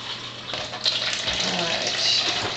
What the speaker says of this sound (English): I'm going to get some water in here